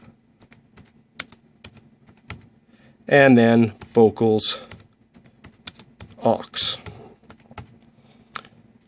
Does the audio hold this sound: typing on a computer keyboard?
yes